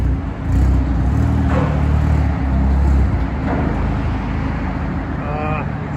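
A modified exhaust on a 1.8-litre turbo Mk2 Volkswagen Golf rumbles steadily with deep low tones, loud and close, while faint voices come and go over it.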